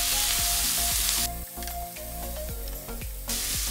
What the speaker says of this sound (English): Look at that sizzling sound.